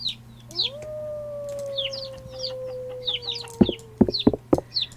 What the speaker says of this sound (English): See, the problem with the chickens